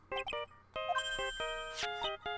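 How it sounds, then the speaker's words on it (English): A short electronic phone ringtone from the Phoenix Wright: Justice For All video game, a quick sequence of bright synthesized tones rising and falling, clear and alone. "I don't like the sound of this ringtone right now."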